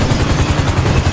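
A helicopter in Grand Theft Auto V Online thuds loudly and close, its rotor beating in a fast, even pulse with no voices.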